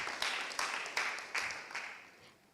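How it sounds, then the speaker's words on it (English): An audience at a Tanzania health summit forum gives a speaker a brief, sparse round of applause: a few faint, evenly spaced claps that fade out. "A big applause, colleagues, for him."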